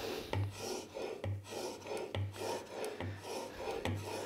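A plane blade with a secondary bevel is sharpened by hand on a workshop bench. Steady back-and-forth rasping strokes, about five in a row, come close and fairly quiet.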